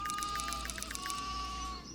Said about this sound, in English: Spawn sheep.